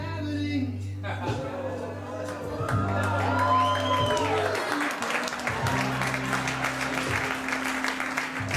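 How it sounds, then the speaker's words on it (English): Audience at a live comedy show applauding and cheering after a card trick, a broad sustained wash of clapping with a few whoops, heard under steady background music. "If this works, I want everybody clapping"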